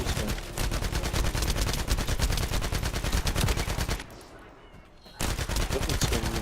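Automatic weapons fire nonstop in the video game The First Descendant: dense, rapid bursts that are loud and continuous, with a brief lull near the end before the firing resumes at full strength.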